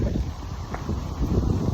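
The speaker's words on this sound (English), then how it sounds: "it's really windy out here today" Gusty wind rushes and buffets outdoors in Connell, Washington, a steady low roar with rustling texture that swells and eases over a couple of seconds.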